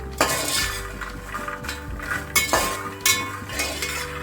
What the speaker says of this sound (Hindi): देखिए हमारा मखाना फ्राई हो रहा है